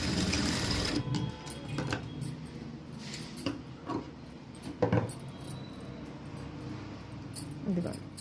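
A sewing machine stitching a quarter-inch-wide, 3.5-inch-long seam on fabric for a blouse front panel, running in short bursts of rapid mechanical whirring close by. Someone speaks in between and over the stitching.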